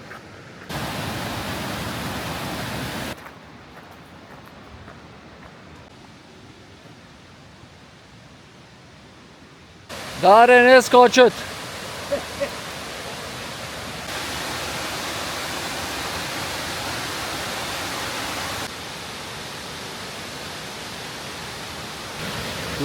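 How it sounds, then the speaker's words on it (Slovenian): Broad steady rush of water from waterfalls on a mountain hike toward Dinara, loud and continuous with shifts in level as the view changes, and a brief shout in the middle. "Tukaj so oranž slapovi,"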